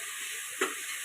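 Spices like turmeric and chutney being stirred into vaghareli khichdi with potato and raw mango in a pan: a steady sizzling hiss with one short scraping stir near the middle.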